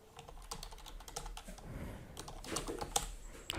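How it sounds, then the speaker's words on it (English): Fingers tapping on a computer keyboard, a quiet, close, uneven patter of keystrokes with a few slightly harder presses, no voice present. "I'm typing here"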